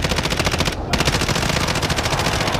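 Rapid automatic gunfire in a competitive video game match, a loud continuous burst of closely spaced shots filling the whole moment with a brief gap near the start.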